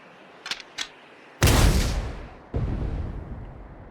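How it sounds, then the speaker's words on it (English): A tank cannon in the Sand Land video game fires with a heavy, booming blast, followed a second later by a second deep explosive impact. Two small clicks come first, then a long rumbling decay. "Fire one shot right at the midpoint between Shiva and the Royal Army!"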